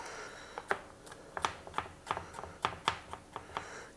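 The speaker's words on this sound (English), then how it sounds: "Chop up the onions." A knife chops onions on a cutting board in a home kitchen: a dozen or so sharp, irregular taps, close and fairly quiet, with no one speaking.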